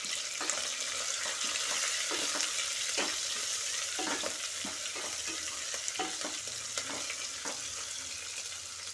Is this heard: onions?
yes